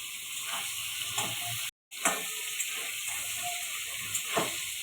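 Cauliflower florets fry in refined oil in a wok, with a steady bright sizzle, occasional stirring scrapes and pops, and one short dropout partway through.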